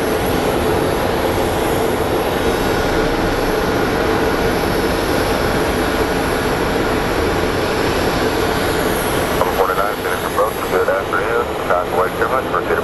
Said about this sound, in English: coming in from Calgary is an Air Canada 737 MAX